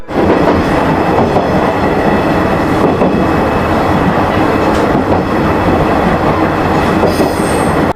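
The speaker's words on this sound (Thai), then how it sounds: "เสียงล้อเหล็กบดกับรางรถไฟดังก้องกึกก้องไปในความมืด" A train rolls loudly and continuously, its steel wheels grinding and rumbling on the rails, with faint squeals and clatter under a steady roar.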